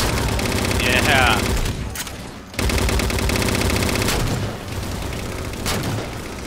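Dense bursts of automatic gunfire and explosions from a Halo 4 firefight crackle loudly throughout, with a brief lull partway through before the rapid shooting resumes, and voices shouting faintly beneath.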